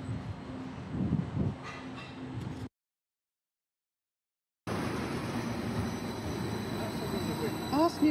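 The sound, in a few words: passing train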